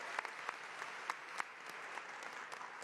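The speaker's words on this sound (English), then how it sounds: "give everyone up here a round of applause" A crowd at a recreation center opening applauds elected officials, a soft, fairly distant patter of clapping with a few sharper individual claps standing out.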